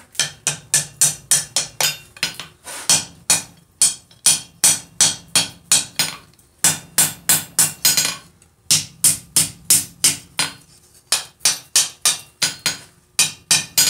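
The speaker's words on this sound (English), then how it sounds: "I'm going to just use a much smaller hammer." Sharp metallic strikes of a small hammer forging a steel collar in a vice ring out in quick, steady bursts of blows with short pauses between runs, loud and close.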